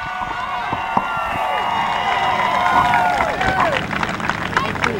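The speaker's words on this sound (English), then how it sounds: "Let's give another round of applause." A large crowd claps and cheers loudly and continuously, with scattered sharp claps standing out from the steady roar of applause.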